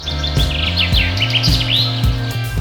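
Birds chirp and tweet in rapid, overlapping bursts by a river over a steady low hum and rumble, the calls loud and close with no talking.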